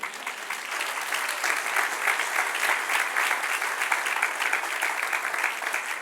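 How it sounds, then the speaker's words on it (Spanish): Steady applause from a church congregation during a Bible history class, a dense even wash of many hands sustained for several seconds without talk. "Denle un aplauso al Señor."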